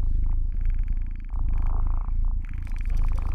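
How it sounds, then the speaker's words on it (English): A big cat purrs steadily and close by, a low rumbling purr with a rhythmic in-and-out cycle and no talking over it. "Why do cats purr?"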